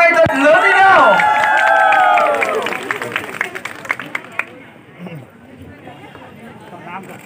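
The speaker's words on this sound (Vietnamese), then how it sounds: "Hãy đổ một tràng pháo tay thật lớn đi nào" Audience applause at a Vietnamese family cooking contest, with dense clapping and crowd noise under loud tonal music and voices, then fading to scattered claps and background chatter.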